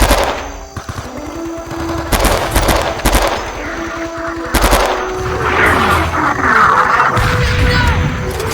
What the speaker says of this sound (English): Heavy fire from those bunkers!